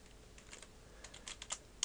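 Computer keyboard typing while code is written for a Unity 3D project, a quick run of light, close key clicks clustered in uneven bursts and fairly quiet.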